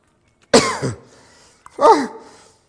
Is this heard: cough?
yes